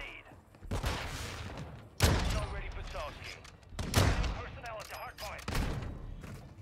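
A Victus XMR sniper rifle fires three heavy, sharp shots in Call of Duty MW2, each crack leaving a ringing tail, with a player talking quietly between them.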